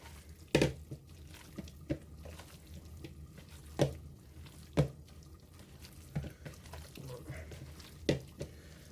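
Hoisin beef jerky marinade with plenty of salt gets a final stir, wet squelching and dripping sounds arriving in irregular close bursts, a few sharper clinks and splats standing out against a quiet background.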